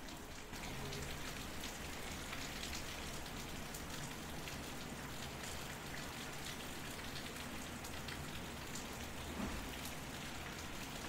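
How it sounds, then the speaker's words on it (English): Steady rainfall patters densely on surfaces, a constant close hiss of drops with occasional louder splats, continuing evenly throughout with no voices. "just recording some of the rain to play out for you guys to gently go off into sleep"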